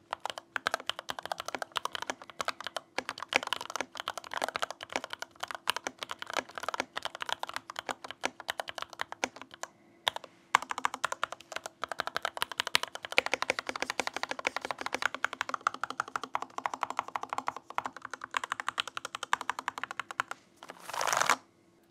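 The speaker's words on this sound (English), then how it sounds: "And this is how the modded version of this keyboard sounds." Rapid typing on a modded RK61 mechanical keyboard with foam added to the case, a steady close stream of soft muted key clacks broken by a short pause and a final louder clatter.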